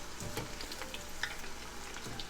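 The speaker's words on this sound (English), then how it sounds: "we're going to brown the eggplant in 2 batches" Eggplant browning in a frying pan in batches, a faint, soft crackling sizzle with a few brief stirring knocks, no voices.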